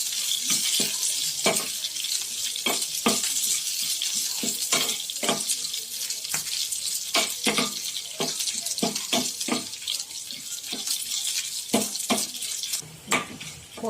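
Tempering (popu) sizzles in a pan for a bottle gourd curry made with milk, a soft, continuous hiss broken by many sharp, irregular pops and crackles. No one speaks.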